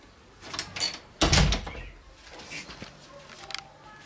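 A bathroom door in a furnished seaside apartment in Fatih is pushed closed with a sharp, loud thud close by, followed by faint shuffling and light knocks.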